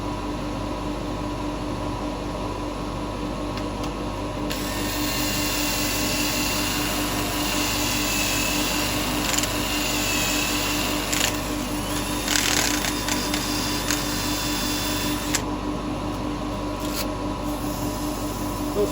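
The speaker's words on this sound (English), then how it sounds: "Not spending over amounts of time on the sanding because I don't need to." Continuous abrasive rubbing of 240 to 320 grit sandpaper on a large segmented wooden jar spinning on a lathe, close by, over the steady hum, intensifying in the middle with brief sharper scratchy bursts.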